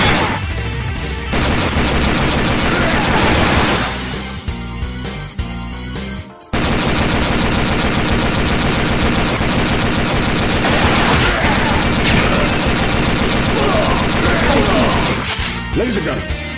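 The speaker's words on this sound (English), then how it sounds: "heavy machine gun." The heavy machine gun fires in the arcade game Metal Slug 6 as a dense, loud stream of rapid gunfire and crashes over driving game music. A brief silent gap falls midway.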